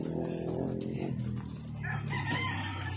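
A rooster crows loudly nearby, its drawn-out call filling the air, with a faint voice and other farmyard noise behind it.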